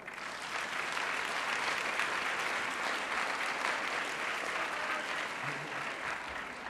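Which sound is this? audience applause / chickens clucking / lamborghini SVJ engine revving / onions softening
audience applause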